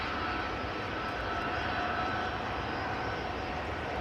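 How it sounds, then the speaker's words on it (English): A Delta Airbus A330 takes off from runway 18C at Amsterdam Schiphol Airport, giving a steady, broad jet-engine roar that sounds distant and fairly faint throughout, with no talking. "And another Delta A330 that is going to take off from 18C."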